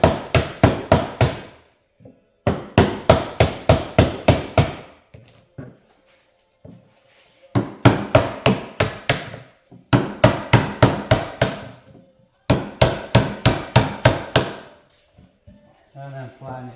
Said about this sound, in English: Move all this now with a hammer and chisel